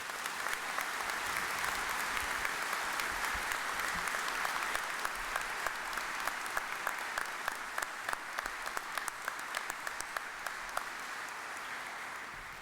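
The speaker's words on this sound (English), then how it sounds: "Would you give them a round of applause, please?" A crowd claps steadily for several seconds at the unveiling of the F-35 Lightning II, dense overlapping applause that holds even and fairly distant, with a few sharper claps standing out near the end.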